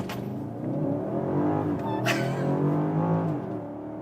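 A 2024 BMW X6 M60i facelift with its V8 pulls hard from a standstill to 100 km/h, the engine note rising steadily through the gears, loud and close from inside the cabin.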